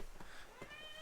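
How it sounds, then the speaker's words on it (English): A pet cat meows twice in quick succession at moderate loudness, short and nasal, over a low steady background hum. "That's my cat. She's a loudmouth."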